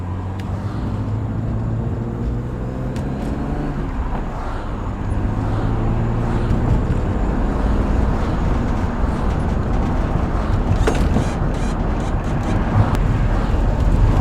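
A rebuilt, worn-out BMW E36 M3 driving on the road, heard from inside as a steady engine drone with road and tire noise that rises in pitch midway, continuous and close.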